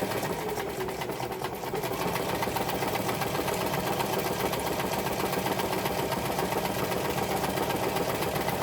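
A sewing machine stitches through a paper bag journal and over a seam, a steady close mechanical whirr that runs continuously with little change.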